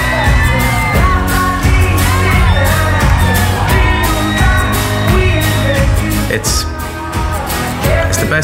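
Around 10,000 concertgoers cheer, whoop and shout at a first gig, a dense sustained roar of voices over loud music and bangs that stays near and continuous throughout.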